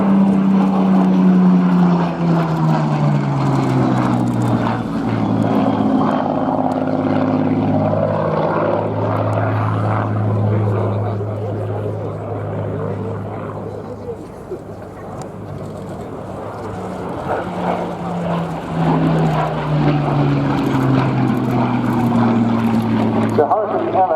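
Spitfire and Hurricane of the RAF Battle of Britain Memorial Flight crossing at an air show, loud piston-engine drones with clear pitch sweeps as each plane passes, dipping midway, under air-show commentary.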